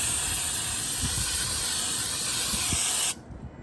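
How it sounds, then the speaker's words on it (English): A continuous hissing spray from an aerosol can of cleaner onto a Tesla Model S brake caliper, loud and close, holding steady for about three seconds before stopping abruptly. "just spray this thing on it, and then I guess let it sit for a little bit"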